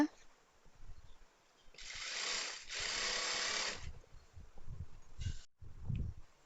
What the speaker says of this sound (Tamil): டபுள் தையல் போட்டுக்குங்க